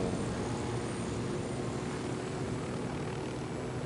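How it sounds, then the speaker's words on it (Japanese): A cartel helicopter flies in the video game Ghost Recon Wildlands, its rotor and engine making a steady, loud, continuous drone with no talk over it. "待って、カルテルのヘリが飛んでる。"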